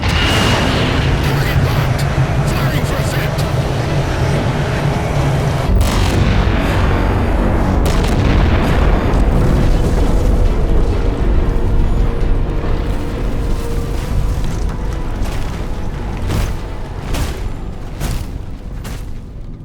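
An orbital strike explosion in Halo 4 rolls out as a massive, sustained booming rumble with scattered sharp blasts, loud and dense throughout before slowly thinning toward the end.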